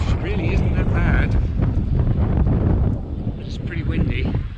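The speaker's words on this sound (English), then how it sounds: "It's pretty windy." Wind buffets the microphone on a chilly, overcast October day in town, a loud, steady low rumble with gusty swells throughout.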